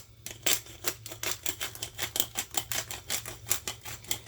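A pepper grinder twisting over black pepper, a quick run of about fifteen crisp, rhythmic ratcheting crunches, close and fairly quiet, alone without talk.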